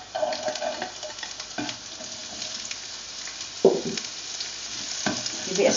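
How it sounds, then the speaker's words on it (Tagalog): Onion sizzles in hot oil in a pan for a Filipino stir fry, a steady close crackle broken by a few scraping knocks from a spoon stirring. "Now we can add the onion."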